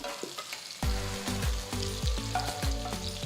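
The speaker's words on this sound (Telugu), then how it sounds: "నూనె వేడెక్కిన తర్వాత మనం తయారు చేసి పెట్టుకున్న వంకాయల్ని ఒక్కదాని తర్వాత ఒకటి జాగ్రత్తగా ప్యాన్లోకి వేసుకోవాలి" Eggplants frying in hot oil in a pan for a vegetarian lunch, a steady loud sizzle starting after a near-silent moment, with recurring clinks and scrapes as pieces are placed and moved.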